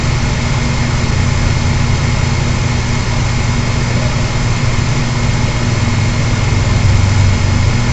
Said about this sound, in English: He actually kind of spun out, did like a little burnout right there onto MacArthur